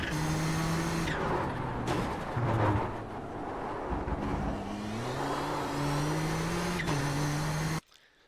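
A Nissan GTP ZX-T prototype race car at Circuit de la Sarthe in the iRacing simulator screams through repeated upshifts, engine pitch climbing and dropping in steady steps, loud and close, before cutting out.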